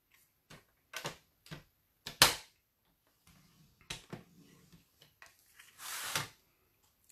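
Paper card being folded along an 8.5 cm line and its crease pressed down: a few dry crinkling and rubbing bursts, close and fairly quiet, with pauses between them.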